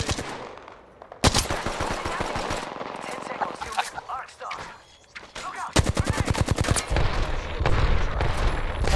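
Rapid automatic gunfire rattles through a round of the Apex Legends video game, loud close bursts and sustained volleys stacked with distant shots and game effects, with a player talking over parts of it.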